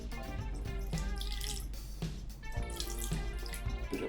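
White wine vinegar pours into a bowl, a faint liquid trickle with small splashes and drips under soft background clatter, quiet and close.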